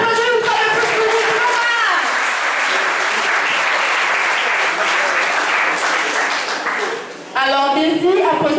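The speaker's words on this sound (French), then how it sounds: "On applaudit une fois de plus pour Ruth" An audience at a school media and journalism awards event claps loudly and steadily for several seconds, with voices and cheering at the start and finish and a brief dip near the end.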